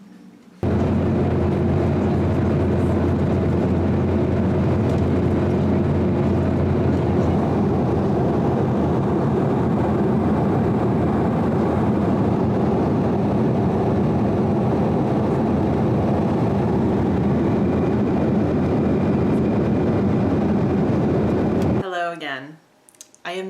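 Steady loud droning cabin noise inside an airplane flying back to Pittsburgh, a continuous low engine roar lasting about twenty seconds before cutting out abruptly.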